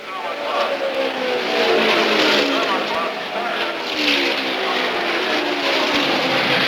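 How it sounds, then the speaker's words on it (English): IndyCar race cars from the 1975 season roar past at speed, a steady loud engine whine with rising and falling pitch as cars sweep by on an oval track. A commentator speaks over the engine noise. "The red number 40 passes Foyt on the 59th lap and takes the lead for the first time."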